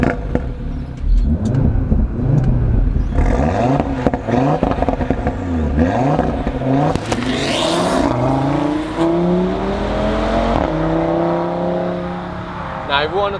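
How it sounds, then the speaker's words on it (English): A 2017 Audi RS3 sedan's five-cylinder turbo engine revs hard several times, rising and falling in pitch, loud and close, with engine whir and clatter between the revs. "the 5-pot, 5-cylinder, whatever you want to call it, turbo engine"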